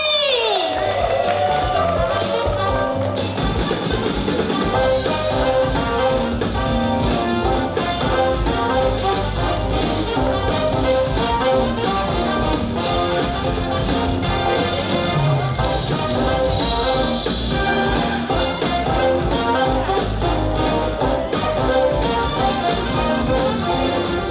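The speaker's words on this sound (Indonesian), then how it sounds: "berikan tepuk tangan yang meriah untuk Husni Fadila Sani dan Nurmala Komala S" An audience at an event introducing entrepreneurs from Tasikmalaya applauds and cheers loudly and continuously for over twenty seconds, a dense wash of clapping and voices.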